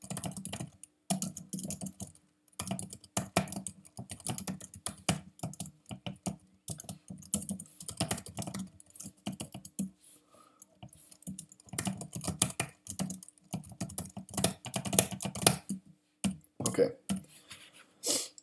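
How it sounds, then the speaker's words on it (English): Rapid keystrokes on a computer keyboard while entering C code, a steady near stream of clicky taps with brief pauses, a voice talking over parts of it. "Okay, type in the code real quick."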